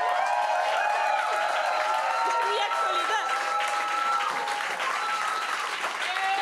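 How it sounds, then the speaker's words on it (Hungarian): Audience applause in a hall during a Hungarian interview event with a new district mayor, a continuous patter of clapping with whistling or whooping tones riding over it and voices mixed in. "Udvarhely Tesszának egy hatalmas tapsot szeretnék kérni."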